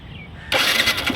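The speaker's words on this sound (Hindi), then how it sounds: "क्लच दबाओ, स्टार्ट करो और निकल जाओ बस" A motorcycle engine starts after a half-second lull, catching abruptly and settling into a loud, steady running roar close by.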